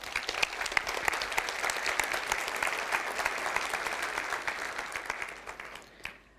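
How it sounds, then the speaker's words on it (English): An audience at a C++ programming conference applauds steadily for about five seconds, a dense even wash of clapping that fades out toward the end. "Please give a warm applause to Victor Ciura."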